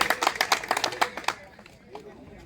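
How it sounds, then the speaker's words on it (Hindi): A burst of clapping from a crowd at a protest rally in Uttar Pradesh over about a second and a half, fading out, with faint voices underneath. "एक बार जोरदार तालियों से हम सोनू का स्वागत करेंगे।"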